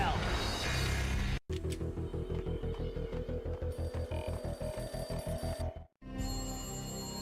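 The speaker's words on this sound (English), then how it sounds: "A beaten-up phone in the entrance hall was ringing." An old, battered telephone rings in an entrance hall in the video game Max Payne, a rapid repeating electronic trill pulsing steadily and loudly over dark game music, broken by two brief silences.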